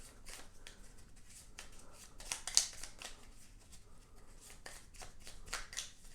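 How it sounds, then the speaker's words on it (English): Sub Terra board game cave tiles shuffled into a stack by hand, a steady run of soft, close card-like riffles and slides with a sharper snap midway, no talking. "So we'll shuffle that in here."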